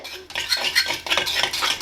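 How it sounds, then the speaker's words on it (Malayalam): A fork mashes lumps of curd (yogurt) in a bowl, making quick, repeated metallic scrapes and taps against the bowl, close and continuous. "ഞാനിപ്പോൾ ഇതൊരു ഫോർക്ക് വെച്ചിട്ട് നന്നായിട്ട് ഇതുപോലെ കട്ടയൊന്ന് ഉടച്ചെടുക്കുന്നുണ്ട്"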